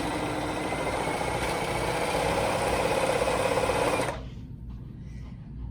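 A sewing machine stitching a quilt block for rulerwork quilting, a loud steady mechanical whirr with fast rhythmic needle chatter, close up, running continuously and then stopping abruptly, leaving quiet room noise.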